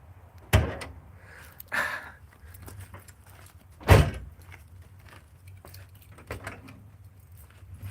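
A car trunk is opened remotely with a key fob: a few sharp mechanical clunks and thuds, one near the start and one stronger midway, with softer rustling and clicks between in a quiet setting.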